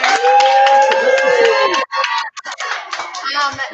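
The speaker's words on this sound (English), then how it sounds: "Can we give him a little cheer here?" An audience gives a short burst of cheering and whooping for a visiting author at a school readathon event, loud at first, then breaking into scattered shouts.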